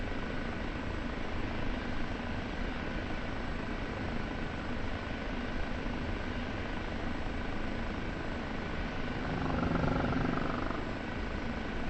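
A Kiowa helicopter in the DCS flight simulator game drones steadily with a constant rotor hum and engine whine, filling the whole stretch at an even, loud level without speech.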